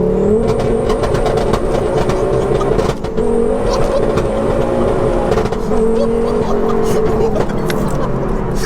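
A 530bhp big-turbo Ford Focus ST driven in front-wheel-drive mode accelerates hard, its loud engine note climbing steadily through the gear and briefly dipping at a shift, with voices talking over it.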